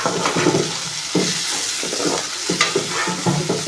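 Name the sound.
curry leaves sizzling in hot oil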